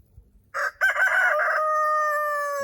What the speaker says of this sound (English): There's a rooster right behind me.